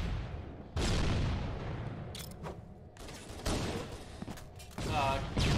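Gunfire in the Halo multiplayer map Hang 'em High, heard as repeated distant weapon bursts and booms amid game noise, mixed under faint commentary.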